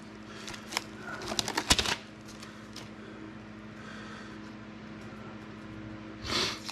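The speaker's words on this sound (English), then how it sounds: "I am going to try to get the tape off of here" Tape is peeled off an epoxy-coated wooden bed rail with quick crackling rips close by, a busy burst early on, then quieter handling and one last short tear near the end.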